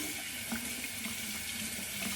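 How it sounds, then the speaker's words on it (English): A GilletteLabs razor blade is rinsed under a running tap, giving a steady splashing rush of water into a sink with slight flutters as the blade moves through the stream, close and fairly quiet. "pull out the blade, rinse it out."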